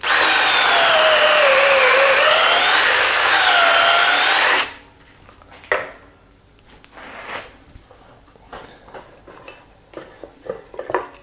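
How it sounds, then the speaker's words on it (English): A loud, steady power drill whine runs for about four seconds while drilling a pocket hole in timber with a Kreg pocket hole jig, then cuts off, followed by a few scattered clatters and knocks. "We drill our hole."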